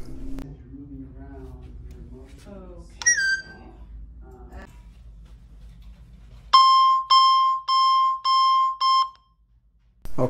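An Alarm.com camera perimeter guard alarm plays, first a soft whistled chirping tune and then five loud, evenly spaced electronic beeps in a steady on-off pattern, heard close in a quiet room.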